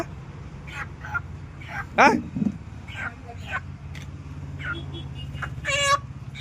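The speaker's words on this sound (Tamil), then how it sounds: "என்ன காடை கோழி மாதிரி கத்துது?" A quail gives a couple of shrill, chicken-like calls among people talking nearby.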